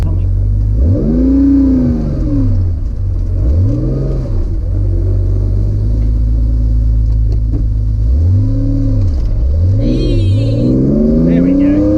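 A Porsche 911 2.8 RSR engine revs loud and close in repeated swelling bursts, the pitch climbing and falling several times over a constant idle drone.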